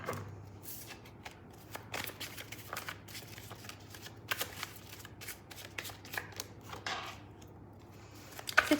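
A deck of tarot cards is shuffled for several seconds in a continuous soft riffle and flutter of sliding cards, with sharper slaps at intervals, close to the microphone over a faint low hum.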